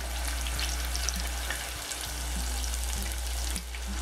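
Meatballs fry in a pan with a steady, close sizzle and crackle, with occasional soft clinks and scrapes of stirring over a constant low hum.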